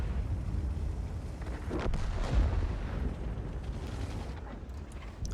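A tank cannon fires in the World of Tanks video game, a heavy booming blast that rises out of a continuous low rumble of battle noise, with no voices over it.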